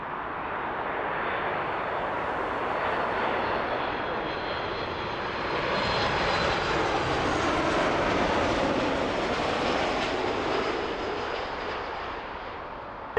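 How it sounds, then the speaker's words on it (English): A Boeing 737 MAX 8 jet arriving at Toronto Pearson from Mexico City gives a long, steady engine roar that swells slightly and then eases, heard alone without talk. "Next arrival is a 737 MAX 8 coming in from Mexico City"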